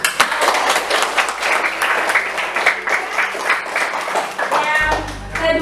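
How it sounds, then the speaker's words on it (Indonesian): A classroom of students claps together in a lively burst of applause that continues through the whole stretch, with voices in the background and a brief hum at the end. "Ya, tepuk tangan buat."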